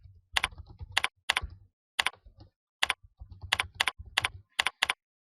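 Keys clatter on a computer keyboard in quick bursts of sharp clicks, with brief pauses between short runs of typing, close and fairly quiet with no talking.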